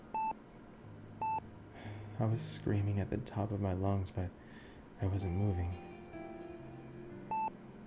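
Short electronic beeps recur at steady intervals, faint and thin, while a voice talks over them and between them.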